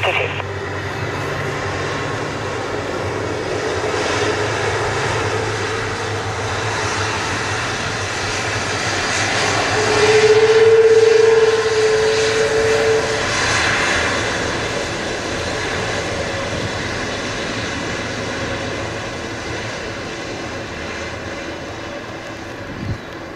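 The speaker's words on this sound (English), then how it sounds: "departing heavy Airbus 330" A Lufthansa Airbus A330 jet departing from runway 06 left, a loud broad engine roar that swells midway, with radio voices from air traffic control talking over it.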